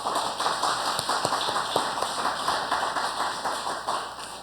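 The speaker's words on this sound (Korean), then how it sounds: "잠깐 일어나시면 박수로 환영하겠습니다." Church congregation clapping to welcome a visitor at a Sunday service, a steady, moderately loud patter of many hands throughout.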